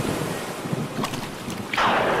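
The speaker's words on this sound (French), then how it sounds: "les énormes vagues firent que le navire heurta les rochers et se brisa" Cartoon storm at sea, with heavy surf and gusting wind roaring continuously before a wave crashes with a louder hissing surge near the end.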